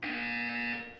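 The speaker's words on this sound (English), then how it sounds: "You will hear a buzzer. When you hear the buzzer, look down at the floor." A buzzer from the video game Portal 2 sounds as a single steady electronic tone lasting about a second, clear and alone, cut off abruptly at the end.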